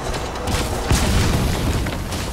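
Grenade explosion in the video game Metal Gear Solid 5, a dense loud blast with a sharp boom near the middle amid a continuous rumbling roar.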